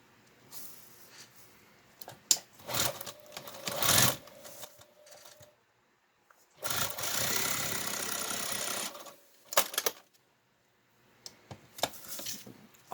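A sewing machine stitches a quilt border, running in short bursts and one longer steady stretch of rapid needle whir, close up, separated by quiet pauses and fabric handling, with no voices.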